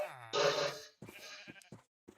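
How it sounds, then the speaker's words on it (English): Sheep bleating in the video game Minecraft: one long, wavering bleat comes first, followed by a few shorter, softer bleats and small clicks, clear and close, with no talk over them. "And the sheep need to be fed too."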